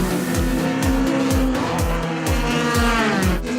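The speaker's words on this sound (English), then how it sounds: "Adrian Dalton making the pass on Pierre Potgieter heading into turn 1" Race cars at a circuit road racing round, with repeated rhythmic tire squeals and engines roaring steadily and loudly, no talk.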